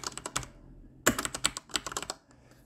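Keystrokes on a computer keyboard, a fast irregular run of clicks with a brief pause and a heavier burst of taps, close and clear with no talking.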